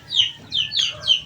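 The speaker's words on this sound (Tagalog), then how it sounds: "So ito yung mga manok mga kanokis na." Gamefowl roosters raised for cockfighting cluck in a short run of four sharp, close calls with no one talking.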